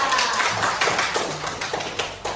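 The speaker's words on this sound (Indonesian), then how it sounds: "Tepuk tangan lagi untuk Anda." Applause from a fourth-grade class, a dense wash of many hands clapping steadily for a couple of seconds, fairly loud and close.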